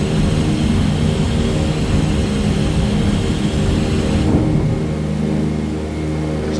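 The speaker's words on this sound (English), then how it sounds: "I'll let the airplane accelerate." A Douglas DC3 propeller airliner roars on its takeoff run in Microsoft Flight Simulator 2020, with loud, continuous engine and propeller drone that eases slightly near the end as power is pulled back.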